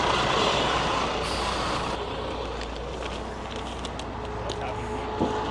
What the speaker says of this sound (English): So now he's dumping the sand.